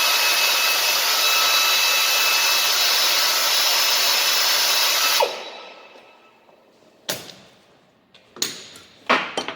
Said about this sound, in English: we're going to drill up the plug a little bit